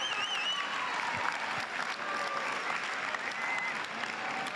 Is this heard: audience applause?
yes